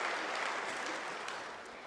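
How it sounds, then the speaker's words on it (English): Sustained applause from a graduation ceremony audience at UNISA, steady dense clapping that fills the hall and tapers slightly toward the end. "a round of applause?"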